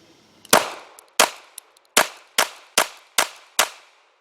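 Seven rapid shots from a Smith & Wesson BodyGuard 380 pistol firing brass-cased ammunition, loud sharp cracks spaced about half a second apart with brief ringing decay, plus a couple of faint clicks between.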